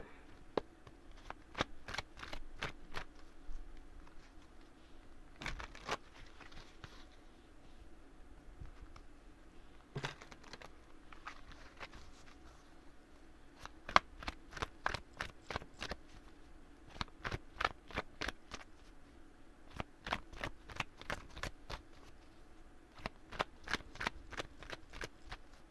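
A deck of tarot-style cards is shuffled for a card reading, with repeated quick riffling bursts and crisp clicking flutters in irregular clusters, close and fairly quiet, with no talking.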